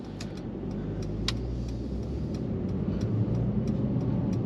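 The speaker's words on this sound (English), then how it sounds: "You can hear that big V8." Mercedes E63 AMG-S V8 cruising steadily at about 45 mph, a low, smooth engine drone heard from inside the cabin with faint ticks and road noise, no talking.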